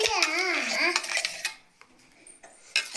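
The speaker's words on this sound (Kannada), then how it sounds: "ಸ್ಟೀಲ್ ಬಾಕ್ಸ್ ಎಲ್ಲ ಹಾಕೊಳ್ತಿದ್ದೀನಿ" Ice cream mixture poured and scraped into a steel box, giving metallic clinks and clatter; someone talks over the first half, then scattered scrapes and a final clank follow.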